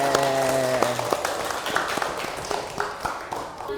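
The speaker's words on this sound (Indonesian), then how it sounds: "tepuk tangan dong." Schoolchildren clapping their hands in a grade 5 elementary classroom; a sustained tonal voice-like sound fades early, then scattered, uneven claps and taps continue at moderate loudness in a roomy space.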